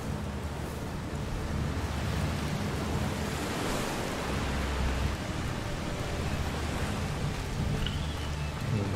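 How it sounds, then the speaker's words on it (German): Steady, dense rain and storm wind roar evenly through a stormy outdoor scene in the video game A Plague Tale: Requiem, a constant broadband wash with no clear voices. "Der Regen wird schlimmer. Das ist nur ein Sturm."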